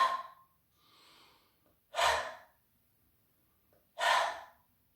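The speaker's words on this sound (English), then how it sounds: "And you breathe in, take the hands up, and you breathe out." Deep, audible breaths during a gentle bed yoga wake-up sequence: a long exhale, a soft inhale, then two more strong exhales spaced about two seconds apart, close and clear in a quiet room.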